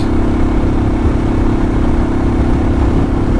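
A Royal Enfield Himalayan motorcycle engine drones loud and close under power in an overtaking lane, a constant heavy rumble with wind noise and no talk.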